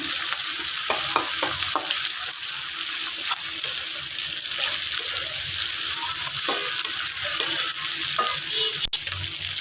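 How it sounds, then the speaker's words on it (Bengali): Shrimp and onion frying together in a pan, a loud, steady, close sizzle throughout with occasional soft stirring scrapes. "শিঙি মাছ আর পেঁয়াজটা একসাথে ভেজে নিব এক দুই মিনিট ভাজলেই হবে"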